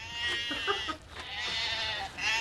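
Several wavering, nasal bleats from a sheep, one after another with brief pauses, fairly close and loud over a steady low rumble.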